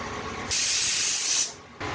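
A pressure cooker steaming hilsa fish lets out a loud, steady steam hiss that runs for about one second, then cuts off, over a quieter kitchen background.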